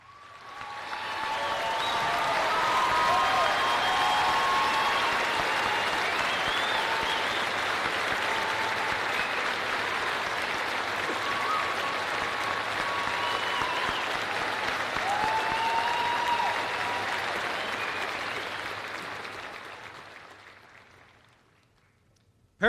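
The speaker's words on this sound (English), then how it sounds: "Please join me in giving these amazing men and women a round of applause." Graduation ceremony audience at Mooresville High School applauding veterans: sustained broad clapping from a large crowd in a big hall, swelling early, holding steady and fading out near the end, with a few faint voices and cheers mixed in.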